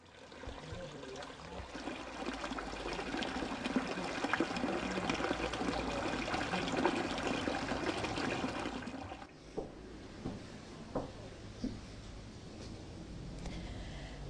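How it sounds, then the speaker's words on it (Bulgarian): Water runs steadily through narrow street channels in the mountain town of Sopot, a continuous splashing gurgle that drops to a softer trickle with scattered drips and clicks in the final seconds. "многобройните течащи вадички по улиците"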